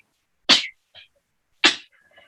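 Two loud sneezes about a second apart, close to the microphone, each followed by a short faint sound, set in a quiet room during an online class.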